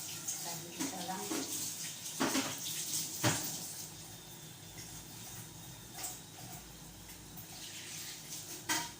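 A tap runs as something is rinsed at a sink, a steady close splashing with bursts of water hitting items, while a person talks over it.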